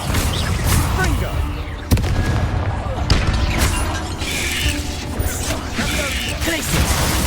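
Blasting spell explosions in Hogwarts Legacy, loud booms and crashing impacts erupting repeatedly amid a busy fight, with a voice shouting spell names over them.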